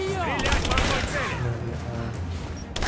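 Gunfire in the video game Rise of the Tomb Raider, a rapid fusillade of overlapping shots that bursts loud early and then thins out, with a final crack at the end as a voice shouts commands.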